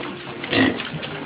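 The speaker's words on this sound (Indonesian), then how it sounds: "pakan yang diberikan langsung diserbu oleh satu peranakan anakan babi yang berjumlah 11 ekor ini" A litter of eleven piglets jostles and grunts while rushing at freshly given feed, a dense, noisy scuffle of snorts, squeals and chewing, steady and close throughout.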